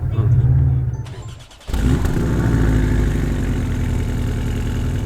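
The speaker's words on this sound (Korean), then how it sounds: "박스 엔진 특유의 그 고동고동하는 소리가 있어" A Porsche 718 Cayman GTS with its 2.5-litre four-cylinder boxer engine rumbles loudly and close by, a throbbing low idle broken by a brief dip near the start before the steady growl resumes and holds.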